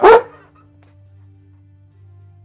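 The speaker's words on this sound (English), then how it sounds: "You silly dog, you." A single sharp dog bark rings out close by, followed by a faint low hum in an otherwise quiet indoor room.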